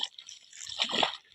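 Spilled water splashes and drips in a short, close burst that swells and fades within about a second, with no talking.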